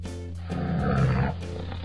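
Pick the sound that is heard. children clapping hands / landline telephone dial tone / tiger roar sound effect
tiger roar sound effect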